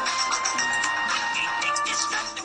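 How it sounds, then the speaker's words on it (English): A ringtone mashing up two songs plays from a phone tucked in a pocket, a steady electronic melody ringing on at moderate loudness with no talk over it. "My phone is making noise."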